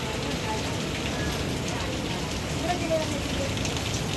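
Steady monsoon rain patters on a surface at the Ganpatipule temple, a dense, even hiss with occasional louder drops, continuous and close.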